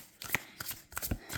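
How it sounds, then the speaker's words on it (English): Tarot cards being shuffled and pulled from the deck, a few quick, close riffling and sliding bursts separated by brief pauses. "now they're asking me to pull some tarot cards."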